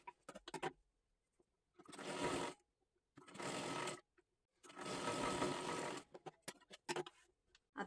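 An electric sewing machine stitches the lining of a child's kathpadar saree blouse in three long steady runs, separated by pauses and short stop-start bursts, close up with no talking.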